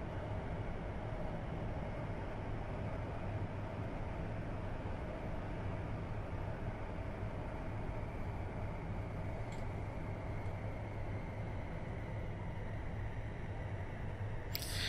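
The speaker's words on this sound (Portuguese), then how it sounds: "Mas até então, tudo, tudo na tranquilidade aí, né? No, nos túneis do metrô chileno." A Santiago Metro Line 6 train runs through a tunnel with a steady, droning rumble and roar that holds constant throughout, close and enveloping, with no voices.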